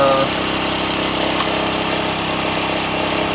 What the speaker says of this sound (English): So it sounds like the idle's a little bit high.